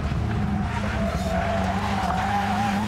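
A Subaru Impreza rally car brakes hard on a Danish rally stage, tires screeching loudly and continuously over the close engine roar for a few seconds.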